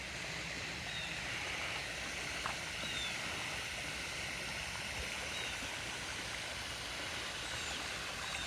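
Swimming pool jets churn the water of a large outdoor pool at a lakeside estate, a steady broadband rush of splashing and flow that stays constant and fairly distant throughout.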